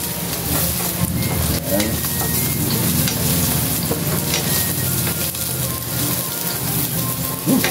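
Garlic sautés in a hot pan with a dense, steady, rain-like sizzle and crackle that runs loud and close throughout, with occasional scrapes and brief speech over it.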